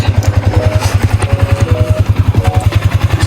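A five-year-old Yamaha Sniper 155 motorcycle engine with a stock tensioner idles up close, a loud, steady low throb with rapid even pulses and light mechanical clatter on top, no talking.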